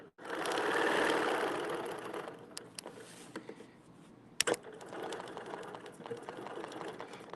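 A sewing machine stitches fabric in a loud, fast continuous whirr that fades into quieter intermittent stitching bursts, with scattered clicks and a sharp knock midway.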